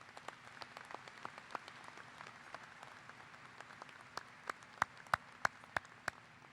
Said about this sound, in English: Would you please acknowledge our honorary degree recipients once more with a round of applause?